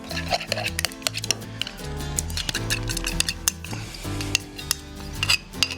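Aioli is served up beside honey garlic chicken wings, with metal utensils scraping and clinking against dishes in quick, uneven bursts close by.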